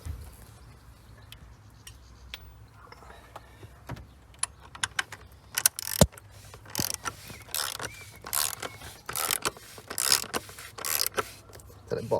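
Oil filter housing being tightened by hand tool on a 2007 VW Golf GT 2.0 diesel, a run of quick ratchet clicks and mechanical ticks, close, growing busier and louder in bursts.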